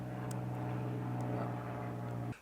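An airplane drones overhead as a steady, loud tonal engine hum with a constant pitch, holding evenly before cutting off abruptly at the end, with no voices.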